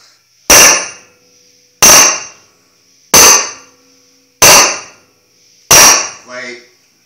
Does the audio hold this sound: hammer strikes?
yes